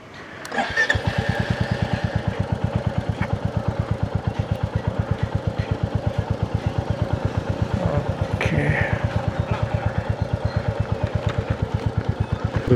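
A motorcycle engine idles and pulls away for a ride on the ECR road toward Pondicherry, a steady close chugging drone throughout with slight rises in revs.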